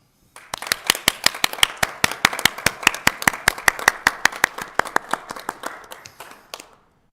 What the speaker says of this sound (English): I'd really like to give her a round of applause